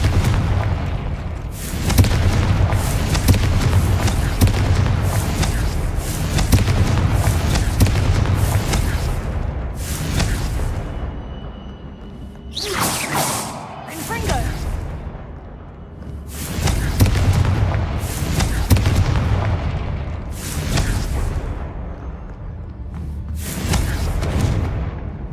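Repeated heavy spell blasts from the Confringo fire-explosion curse in Hogwarts Legacy, a string of loud booming bursts with crackling decay, arriving in clusters with brief lulls between them.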